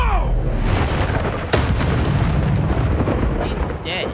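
Incendio fire spell blasting in Hogwarts Legacy, a loud roaring burst with booming rumble that swells and sustains for several seconds, with sharp cracks layered over a dense, continuous fiery wash.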